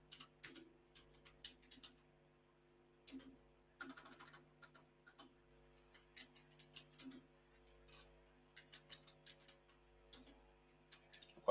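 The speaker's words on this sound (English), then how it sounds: "Let me type it for you." Keystrokes clatter on a computer keyboard in quick, irregular bursts with short pauses between them, moderately close and fairly quiet, with a faint steady hum underneath.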